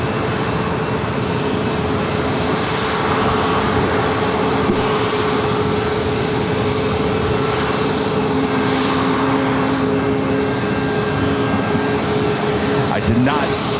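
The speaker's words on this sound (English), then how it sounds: "You have Air Canada Rouge, the A320, heading it back to Toronto, heading down here for a takeoff on runway 27." An Air Canada Rouge A320 airliner takes off on runway 27 at San Diego airport, a steady broad jet roar that holds loud and constant throughout, with a faint voice talking underneath.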